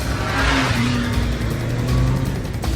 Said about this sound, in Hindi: उसी समय उसने देखा कि एक दूसरी कार सामने से तेज स्पीड में आ रही थी